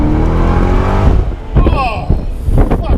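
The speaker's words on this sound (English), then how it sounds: "Supercharger when it kicks in," Supercharged V8 of a 2008 Cadillac XLR-V roars as it accelerates, a loud rising engine note with whine, then a sharp gear change and fresh surge, with a voice exclaiming briefly over it.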